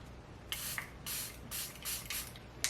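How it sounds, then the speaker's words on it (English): Charlotte Tilbury setting spray misted onto a makeup brush: five or six short, crisp pump-spray bursts in a quick irregular rhythm, close and fairly soft, with no talking. "I'm going to use my new Charlotte Tilbury setting spray"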